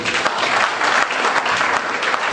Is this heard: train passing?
no